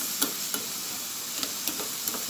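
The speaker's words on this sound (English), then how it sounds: "let everything just saute. Let the tomatoes cook a little and the onions are translucent." Canned mackerel cooking with tomatoes and onions in a covered pan, a soft even sizzle with a few sharp clicks or taps scattered through, close and quiet with no talking.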